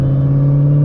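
An 888-horsepower Dodge Hellcat XR widebody holds a loud, steady engine drone with a strong low hum throughout a brief stretch, with no voices.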